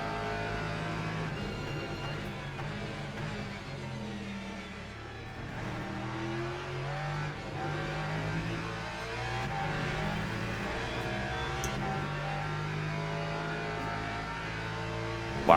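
A sim racing game car's engine revs and shifts continuously through a lap on track, rising and falling pitch with gear changes, steady and prominent with no talking.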